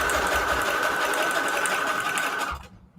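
A sewing machine stitches through layered junk journal pages made from assorted papers, running loud and steady up close for nearly three seconds before stopping abruptly.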